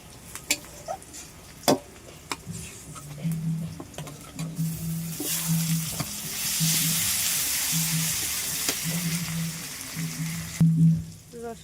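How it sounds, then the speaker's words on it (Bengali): Garlic frying in a pan after onion and green chillies, a soft steady sizzle rising midway and holding, with scattered clicks and stirring knocks. "রসুনটা আমার ভাজা হয়ে গেছে"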